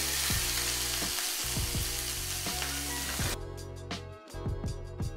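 Lamb searing in a hot pan makes a loud, steady sizzle, with repeated low knocks and clunks of utensils against the pan throughout.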